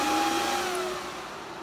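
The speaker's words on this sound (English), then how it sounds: "the fans spin up and spin down" An AntMiner S9 bitcoin miner's cooling fans whir up in a loud, close, vacuum-like roar. The pitch slides as the blades change speed, and the sound eases slightly over the short span.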